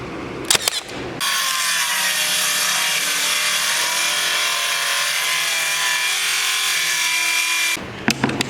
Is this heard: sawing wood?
yes